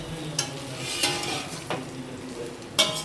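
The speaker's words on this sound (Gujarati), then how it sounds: "હવે મુઠિયાને અંદર ઉમેરી અને સારી રીતના મિક્સ કરી દઈશું." A pan of steamed bottle gourd muthiya with mustard seeds and sesame is stirred and tossed, giving a soft steady sizzle broken by a few sharp utensil scrapes and clinks against the pan.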